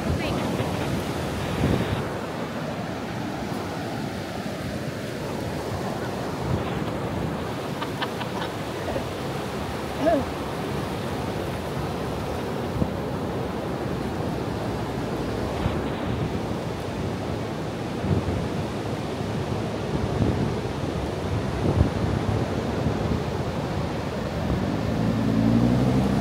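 Waves break and wash ashore continuously as a steady rumbling surf, with wind buffeting the microphone throughout.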